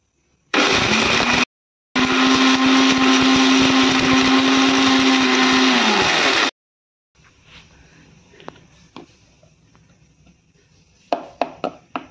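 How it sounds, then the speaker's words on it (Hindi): A kitchen mixer grinder whirs loud and steady as it grinds licorice root into powder, running in two bursts separated by a brief pause, then stopping, followed by soft clinks and handling sounds. "और ये अब मलट्ठी को हम पीसने जा रहे हैं।"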